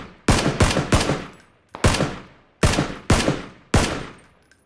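Gunfire in the PUBG battle royale shooter: four loud bursts of rapid automatic shots, each a cluster of sharp cracks with ringing decay, separated by brief pauses, with no talk.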